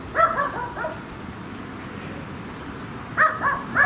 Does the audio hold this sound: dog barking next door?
yes